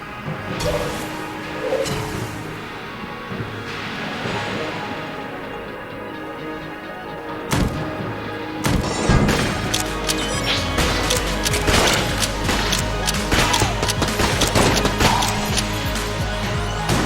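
Gunfire rattles in the video game Enter the Gungeon, a dense stream of sharp shots and impacts over game music. The shots grow thicker and louder partway through and continue as rapid repeated bursts.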